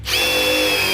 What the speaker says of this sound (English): Well, that Makita drill worked great.